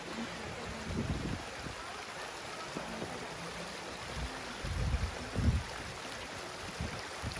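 Steady broadband rush of water from a waterfall in a forested valley, continuous and moderately loud, with occasional low thumps and swells but no voices.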